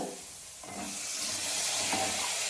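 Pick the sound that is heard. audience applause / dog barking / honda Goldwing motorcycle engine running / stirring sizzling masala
stirring sizzling masala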